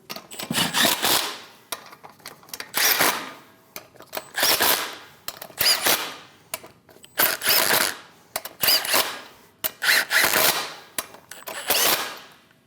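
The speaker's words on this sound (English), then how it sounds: "Snug the lug nuts down." A power tool snugs down lug nuts on a 2003-2025 Chevrolet Express 2500 van in loud, close bursts, about seven separate runs of a few seconds each with short pauses between.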